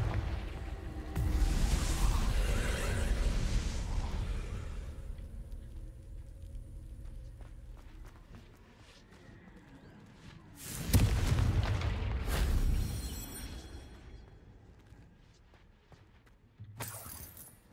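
Two bursts of a Confringo fire spell explosion in the Hogwarts Legacy video game, a booming blast with crackling debris near the start and a louder one midway, followed by a sharper burst near the end.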